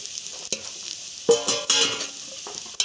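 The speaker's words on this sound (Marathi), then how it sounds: "ते चांगलं फ्राय करून घ्यायचे आहेत छान फ्राय झालेले" Chopped, peeled jackfruit seeds fry in a pan for a Marathi vegetable dish, a bright steady sizzle punctuated by a few sharp stirring scrapes and clinks, close and clear.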